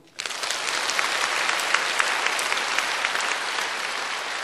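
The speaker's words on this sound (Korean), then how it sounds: "박수." An audience at a lecture breaks into sustained applause, a dense, even wash of many clapping hands that begins abruptly and holds steady throughout.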